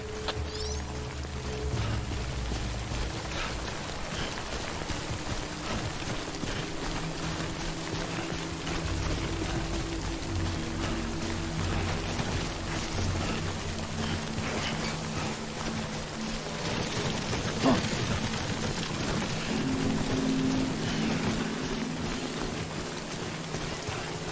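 Steady rain pours in the Death Stranding game, a constant hiss of drops pattering on surfaces, even and moderately loud for the whole stretch with faint low rumbles underneath.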